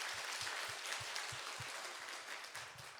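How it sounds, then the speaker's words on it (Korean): A church congregation at a Friday evangelism service claps for the worship team, a soft, fairly distant patter of many hands continuing evenly for a few seconds. "우리 찬양팀에게 박수로 격려하도록 하겠습니다"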